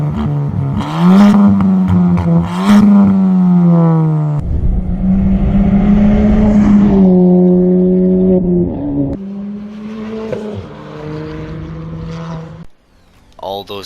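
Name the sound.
car exhaust revving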